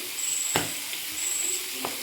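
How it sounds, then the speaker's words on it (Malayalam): Gentle sizzling hiss of red snapper frying in a pan, broken by a couple of sharp pops and clicks. "ഇനി നമുക്കിതൊന്ന് വറുത്തെടുക്കാം മീൻ നമ്മൾ അടുപ്പത്ത് വെച്ചിട്ടുണ്ട്"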